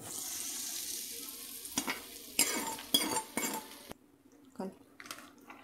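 Hot tempering of dried red chillies, fenugreek seeds and asafoetida is poured into mango pickle, giving short sizzles and clinks of a pan and spoon, a few separate bursts, then quieter stirring.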